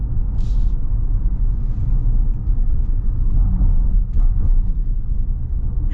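A 2024 Jeep Wagoneer with independent suspension on a body-on-frame chassis, heard from inside while driving: a steady, loud low road rumble and drone that continues without a break.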